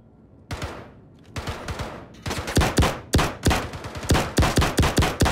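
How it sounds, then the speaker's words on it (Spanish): Rapid gunfire rings out in a live-action airsoft or skirmish game outdoors: a few scattered shots, then bursts of sharp, loud reports in quick succession, close and unmasked by talk. "Disparan, tiros."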